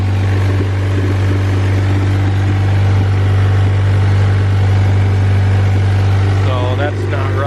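A turbocharged Honda Civic engine idles with a loud, steady low drone and constant rumble throughout. A voice speaks over it near the end.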